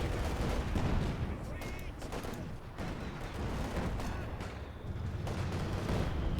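In a Company of Heroes 2 multiplayer match, gunfire crackles steadily in a dense battle din, with a grenade bursting among the shots. A commentator's voice runs beneath the combat noise.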